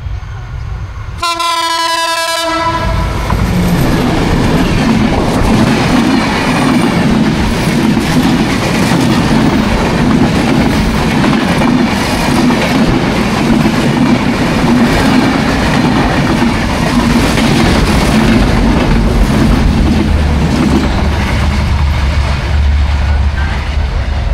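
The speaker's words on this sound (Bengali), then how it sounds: "ট্রেন আসছিল, তারপর সাইড হয়ে নেমে গেলাম" A train rumbles past close by, a loud steady roar of wheels and carriages after a brief horn blast at the start.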